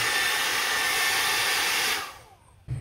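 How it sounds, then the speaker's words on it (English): A hair dryer powered by an Aferiy 2000W portable power pack blows with a steady, loud whooshing roar for about two seconds, then shuts off and winds down into near silence before a brief thump. "we'll try the hair dryer again"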